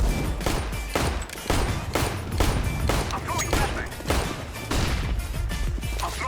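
Gunfire in an online shooter video game during a 15-15 team match, with rapid bursts of shots and impacts repeating throughout the short stretch.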